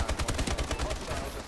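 Rapid gunfire from the Call of Duty: Advanced Warfare video game during a search and destroy match, a fast burst of repeated shots running through the whole moment at steady loudness.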